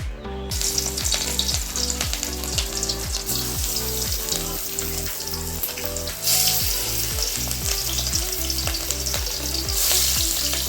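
Fish frying in hot mustard oil for a fish curry with green banana, a loud, steady crackling sizzle close up that runs continuously throughout, with a faint rhythmic mechanical hum beneath it.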